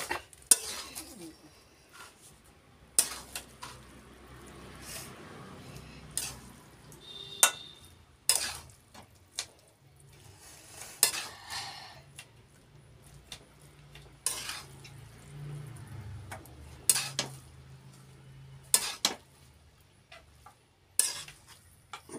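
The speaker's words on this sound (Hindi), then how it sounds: "जब तक इस चलाते रहेंगे जब तक ये भीन ना जाता है तब तक चलाते रहना है" Homemade chow mein stirred in a pan, a spatula scraping and clinking against the metal in irregular repeated strokes over a faint sizzle, close and fairly quiet.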